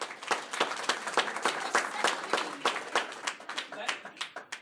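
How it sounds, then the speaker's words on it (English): A small audience claps in a scattered round of applause, with sharp, distinct hand claps repeating irregularly for several seconds at a steady, moderate level. "Give her a round of applause."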